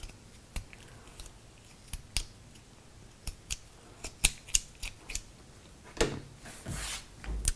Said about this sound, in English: then I will trim off these ends so they're all about the same length